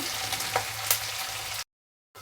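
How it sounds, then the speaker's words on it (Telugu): Potato pieces with carrot and peas frying in a pan for a curry, a steady close sizzle with a couple of brief stirring scrapes before it cuts to silence. "ఒకసారి కలుపుకున్నాము ఒక రెండు నిమిషాలు ఇలాగనే వేగనిద్దామా"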